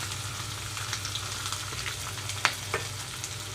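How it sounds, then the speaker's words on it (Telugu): Chopped onions and green chillies frying in hot oil with crackling tempering seeds for potato curry, a dense continuous sizzle under a low hum, with a couple of brief sharp pops and clinks, close up and without speech. "తాలింపు గింజలన్నీ చిట్టుపట్టమంటూ వేగేటప్పుడే ఇందులోకి కట్ చేసి పెట్టుకున్న ఉల్లిపాయలు పచ్చిమిరపకాయలు వేసేసుకున్నాను"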